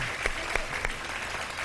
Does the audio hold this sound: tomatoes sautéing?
no